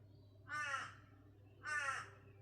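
A crow caws twice outside, two harsh, separate calls about a second apart, clear and moderately loud over a low steady hum.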